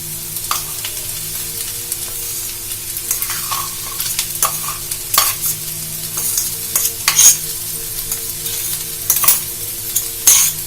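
A spoon stirs grated carrot and ground soya chunks frying in a pan, a steady sizzle broken by repeated scraping strokes that come in irregular bursts, loud and close.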